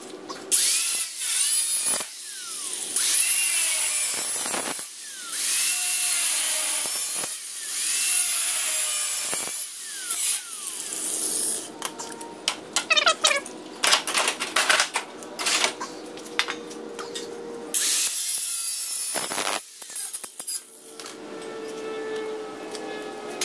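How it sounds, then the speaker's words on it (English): A panel of sheet metal on a 1963 IH Metro-Mite step van is cut to open a hole, with loud rasping cutting bursts interrupted by pauses and sharp scraping strokes. "Now we're gonna come in here and cut this opening right here."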